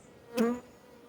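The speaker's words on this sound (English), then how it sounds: "I've never seen my bees, any bees I've ever had, swarm my face so intensely." A honeybee buzzes close past a beekeeper's face, a short rising-and-falling drone lasting under half a second, with no talk.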